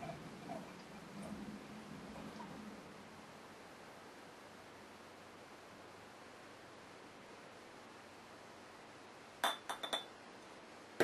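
Imperial stout from Nøgne Ø Brewery poured from a bottle down the center of a glass, a quiet steady pour with soft fizz, ending with a few sharp glass clinks.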